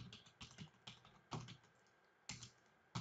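Computer keyboard used to type a search: close, crisp keystroke clicks in short irregular bursts with a pause midway, with no talking.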